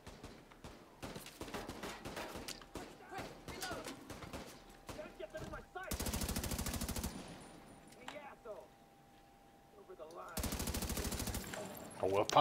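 Rapid automatic gunfire from an inaccurate weapon in The Division 2, loud sustained bursts of fast-repeating shots, one long burst mid-clip and another later, mixed with scattered single shots and game ambience while someone talks over it.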